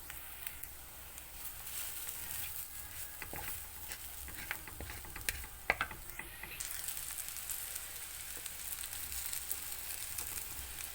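Two eggs cracked into a pan for a raw fig fry, with a steady quiet sizzle and scattered faint taps and crackles throughout, close but low in level.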